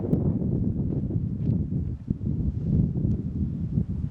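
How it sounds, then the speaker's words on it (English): Steady wind moving through swaying pine trees outdoors near Cuenca, a continuous low rushing whir with gentle rises and falls. "out in the distance you could hear the sounds of the pine trees swaying in the wind"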